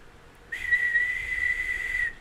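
A voice imitating the whistle of a whistling pot over a deep fire, a single steady high-pitched whistle held for about a second and a half after a brief quiet start, close and clear.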